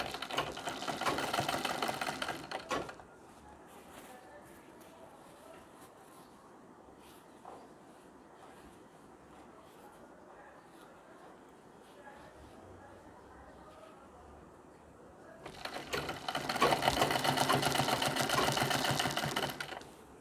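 Sewing machine stitching the lining of a Nauvari saree along to the border edge, with long stitches; loud machine bursts at the start and end, with a quieter stretch of handling sounds between them.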